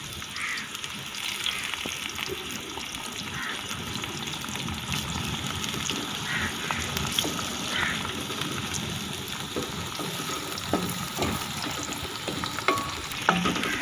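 Tomatoes fry in a pan with onions and whole masoor lentils, giving a steady, close sizzle with soft stirring scrapes throughout and no talking.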